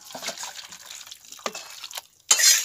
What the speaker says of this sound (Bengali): আমি এখন এই বাটির মধ্যে ঢেলে নিচ্ছি।